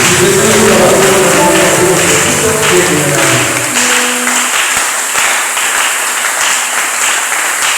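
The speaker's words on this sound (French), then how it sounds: "même ces acclamations sont vraies" A church congregation applauds loudly and continuously, with cheering voices mixed in early on, then the clapping carries on as a steady wash.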